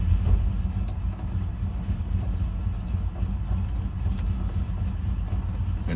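Ford Ranchero engine idling steadily in drive, a low continuous rumble heard close and even throughout, with no revving.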